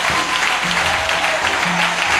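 A church congregation applauds at a chapel dedication, a dense, sustained wash of clapping hands at steady loudness, with faint murmurs of voices underneath.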